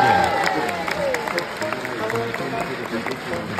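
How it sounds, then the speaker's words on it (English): A theater audience cheers and applauds at a screening as a paper airplane reaches the stage, a dense, steady wash of claps and crowd noise with voices mixed in throughout. "Cheering is for paper airplanes that get all the way to the stage."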